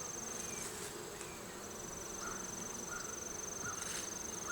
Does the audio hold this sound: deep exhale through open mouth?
no